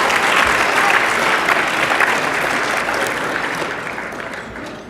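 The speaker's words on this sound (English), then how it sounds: "let's give a round of applause to all of our speakers" A conference audience gives sustained, dense applause that stays loud and even, then slowly tapers off over about five seconds.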